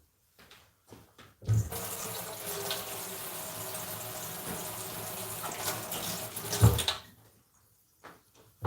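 A kitchen faucet runs for about five seconds as a knife is rinsed, a steady close hiss of water that starts and stops abruptly, with a small clatter near the end.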